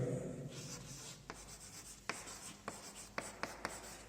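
Marker or chalk writing on a board during a computer applications lesson, heard as a series of sharp rubbing strokes and taps at irregular intervals, with no speech.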